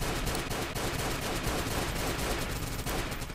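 Rapid automatic gunfire from an online shooter game, Combat Reloaded, rattling continuously and loudly for the full span with no gaps and no talking.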